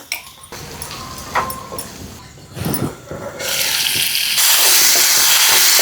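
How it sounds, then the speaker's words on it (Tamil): Ground onion and ginger-garlic paste sauté with cumin in hot oil. The start is fitful with clatter, then a loud, steady sizzle takes over for the last couple of seconds. "எண்ணெய் சீரகம் அரைச்ச வெங்காயம் இஞ்சி பூண்டு விழுது நல்லா பச்சை வாசனை போகிற நல்லா வதக்கி எடுத்துக்கலாம்"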